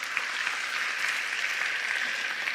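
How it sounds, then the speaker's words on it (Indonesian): A church congregation at a Sunday worship service claps together in a steady, even wash of applause that sounds somewhat distant, with no voices standing out. "berikan tepuk tangan bagi Tuhan Yesus Kristus"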